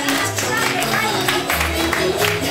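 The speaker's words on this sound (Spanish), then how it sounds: "Así aplaudimos." A crowd at a Bolivian huayño and cholita marina dance event in Pamplona claps along steadily over loud music, with voices mixed into the lively, continuous din.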